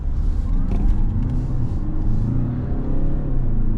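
An Audi RS7 engine pulls hard in sport mode while joining the road, a loud low rumble with rising revs and faint crackles heard close from the cabin, steady throughout.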